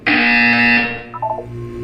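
A loud, harsh electronic buzzer from the video game Portal 2 sounds once for most of a second and then fades into a short trailing electronic tone, with no voices over it.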